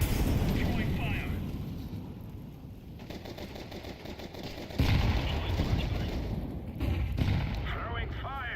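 An incendiary grenade burns during a competitive Counter-Strike 2 match, its fire crackling within a dense, continuous roar of rapid gunfire and blasts, with voices talking over it.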